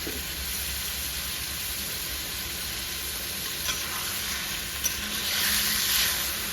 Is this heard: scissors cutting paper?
no